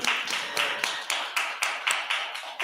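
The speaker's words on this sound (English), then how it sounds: "So let's give Makina Chandler another hand of applause" A small audience at a genealogy talk on Florida's historic cemeteries claps close by, the sparse hand claps falling in a fairly even rhythm.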